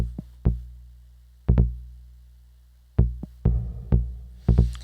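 A synthesizer filter on a Kunsa module, pinged by a pulse output, gives sharp resonant plucks with quick decays, about eight irregular hits spread over several seconds against a quiet background.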